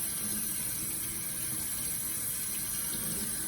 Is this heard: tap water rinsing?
yes